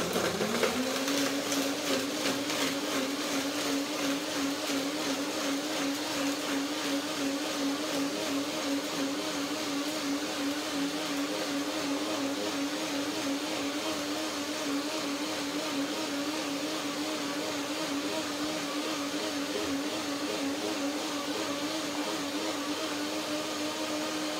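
Blender whirring through cashews and dates for a chocolate sauce, a steady loud motor drone with a slight wavering pitch that runs unbroken for about twenty seconds, close and without talk.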